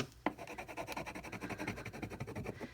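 Vinyl being rubbed onto a painted canvas with the back of a weeder tool gives a close, faint, steady rhythmic scraping after a small initial tap.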